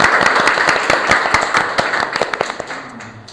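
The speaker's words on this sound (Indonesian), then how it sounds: "Sobat Monty, kasih tepuk tangannya dulu nih buat Saka Akustik." A crowd claps in a dense burst of applause, the individual claps sharpening and thinning out toward the end.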